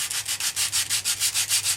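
Sandpaper scrubs back and forth over an epoxy clay fin fillet in rough sanding, about a dozen quick, even rasping strokes in steady rhythm, close and clear with no talking.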